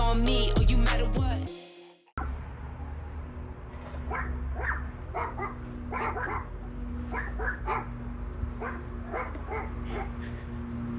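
Several puppies bark, yip and whimper in quick irregular bursts at moderate distance, following a loud noisy passage that cuts off abruptly.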